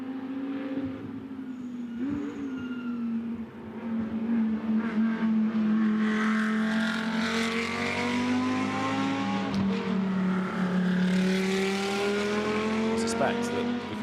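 GT2 race car on a gentle out-lap at Spa during GT2 European Series free practice, its engine holding a steady, fairly loud drone with gradual shifts in pitch, running under continuous commentary.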